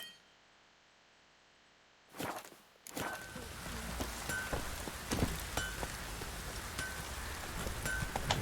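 Downpour in the video game Witcher 3: Wild Hunt, starting after a quiet opening and a brief burst, then steady hissing rain with scattered drips, footsteps and occasional metallic clinks.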